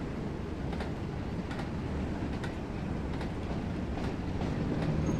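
A British Rail Class 101 diesel multiple unit in blue and yellow livery rolls along in a Northern Trans-Pennine train simulator, a steady low rumble with faint rhythmic clicks of the wheels over rail joints, close and continuous.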